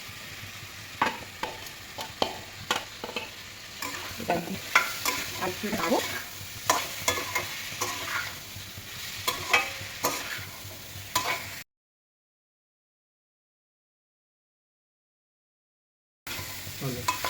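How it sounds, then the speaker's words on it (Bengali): Potatoes, cauliflower and vegetables stirred in a frying pan over an oily spice base, with repeated spatula scrapes and knocks over a steady sizzle. A sudden gap of silence breaks it before the stirring returns briefly. "আলু আর কপির সাথে এটা ভালোভাবে এবার নাড়িয়ে নিলাম"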